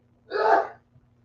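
One sharp sneeze bursts out close by, short and forceful, then the room goes quiet.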